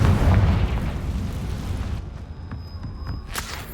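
A loud burst from the Confringo fire spell in Hogwarts Legacy, a thick booming blast filling the first two seconds before settling into fainter rumble and scattered pops.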